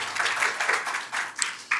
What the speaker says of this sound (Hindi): आप सबको अपने लिए तालियां बजानी चाहिए